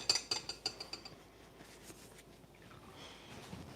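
Small glass baking pots clink and tap lightly against each other and the counter several times in quick succession as they are set out for pots de crème, followed by quieter rustling.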